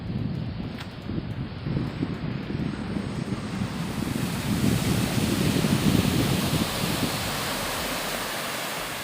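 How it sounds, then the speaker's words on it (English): Waves roll onto Chikhla beach in Dahanu as strong wind buffets the microphone, making a loud, continuous rushing roar that swells slightly midway and then eases, with no voices. "Giving you a little tour of the Chikhla beach"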